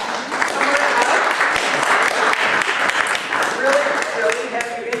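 Audience at a neighborhood association general membership meeting breaking into sustained applause, a dense wash of many hands clapping in a room, loud and continuous, with voices mixed in.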